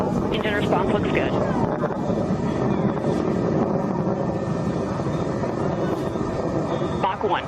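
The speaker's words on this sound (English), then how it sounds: "Engine response looks good." New Shepard rocket engine roaring during launch, a continuous broadband rumble heard from a distance, steady and loud throughout, with speech under the roar.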